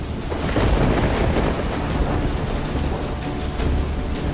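Heavy rain pours during a thunderstorm in a Krishna Govardhan episode of a mythological TV drama, a loud dense roar of rain with deep rolling thunder throughout, no voices.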